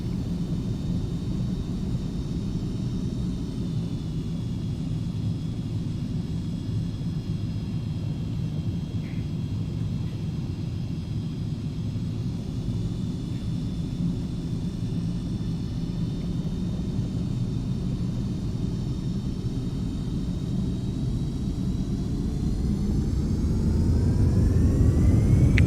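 Beechcraft Premier 1A twin jet engines roar steadily at takeoff power in the flight simulator X-Plane 11. It is a constant, loud rumble with a faint high whine on top, swelling slightly toward the end.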